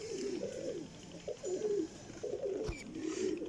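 Pigeons coo in repeated soft, throaty phrases, loud and close, with brief pauses between bursts and a faint chirp near the end; these are flying show pigeons at a loft.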